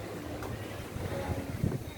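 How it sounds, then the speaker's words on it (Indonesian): Ferry Swarna Kartika waiting at Taipa harbour, Palu, with a low steady engine rumble and wind buffeting the microphone throughout, no talk. "di belakangku itu adalah kapal feri yang siap berangkat"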